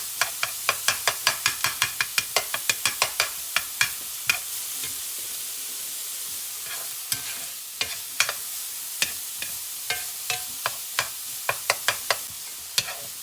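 Crumbled sausage sizzles in a pan for a quick breakfast, a spatula scraping and tapping in rapid bursts of crisp clicks over a steady frying hiss, pausing midway, then resuming in sharp strokes.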